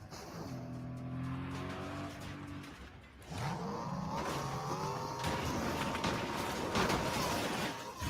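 A car engine in Fortnite revs and climbs in pitch, with tire squeal and skidding, loud and continuous after an opening stretch of lower tonal game sound.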